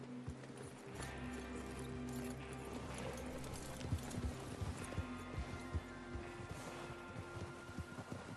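Horses in a Western video game ride off together, their hooves clip-clopping in a steady, overlapping rhythm over a soft musical hum and ambient outdoor background.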